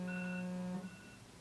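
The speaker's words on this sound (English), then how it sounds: "Now that's the timer, which means my salmon is ready." A kitchen timer beeps for salmon cooking, sounding as a steady held electronic tone for most of a second before cutting off, leaving quiet room noise.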